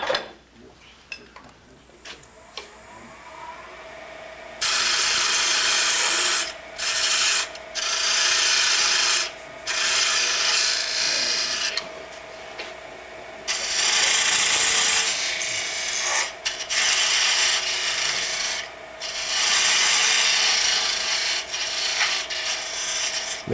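Parting tool cutting a wood tenon on a lathe while turning a long-stem goblet, sized to fit a chuck: loud, harsh scraping bursts in several long runs separated by short pauses over a steady motor hum.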